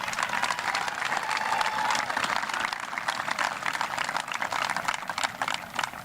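An audience applauds a football MVP at a school sports awards ceremony, a steady, fairly dense burst of clapping lasting several seconds at moderate distance, with no talking over it.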